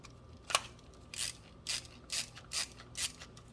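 A stiff rotating ratchet screwdriver being turned, giving six or seven separate dry clicks at a roughly even, unhurried rhythm, close and fairly quiet.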